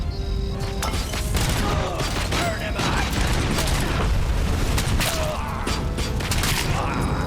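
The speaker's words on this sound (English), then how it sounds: "Robocop with an Uzi sounds wrong? Fine, I'll switch to my normal gun." Gunfire in the Robocop: Rogue City video game comes in loud, dense bursts of shots and crashing impacts, packed tightly together over a busy game soundscape.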